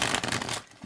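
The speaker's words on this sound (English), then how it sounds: "So easy to shuffle." A chunky tarot card deck being shuffled, a dense burst of riffling card flutter that tapers off after about half a second, close and clear.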